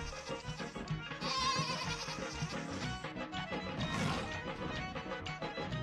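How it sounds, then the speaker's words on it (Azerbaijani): A goat gives a couple of wavering, nasal bleats, heard over a busy background of other sounds. "çoqqa, keçi, Keçinin balası. çəpiş"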